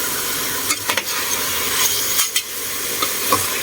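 Chicken rib pieces sauté in a pan with garlic, onion and ginger, giving a loud, close, steady sizzle broken by a few quick scraping stirs of a utensil, with no talking.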